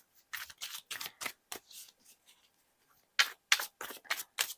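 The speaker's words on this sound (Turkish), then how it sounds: "Hemen bir kart alalım." A tarot card is drawn from a deck, giving several quick papery flicks and slides in two bursts with a short pause between, close and fairly quiet.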